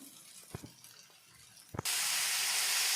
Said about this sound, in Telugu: చింతపండు పులుసుని వేసుకుంటాం అలాగే నానబెట్టేసాను ఇప్పుడు పులుసు వేస్తాను